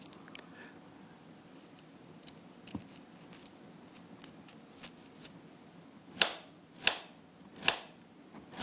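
A knife cuts ingredients for Vietnamese nem spring rolls with a few soft scrapes, then three sharp, distinct chops near the end, quiet and close with no talk.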